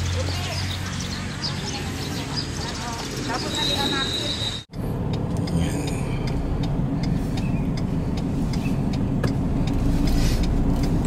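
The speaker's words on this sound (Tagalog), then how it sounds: "Ito tayo sa sasakyan." Interior of a car driving through the town of Bulinaw, a continuous low road and engine rumble with a brief dropout midway, while a person talks over it.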